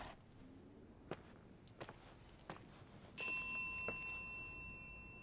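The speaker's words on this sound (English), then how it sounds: "Who rung that bell?" A bell rings inside the video game The Suicide of Rachel Foster, a sudden bright tone that sustains and slowly fades, after a few faint footstep-like knocks in a quiet room.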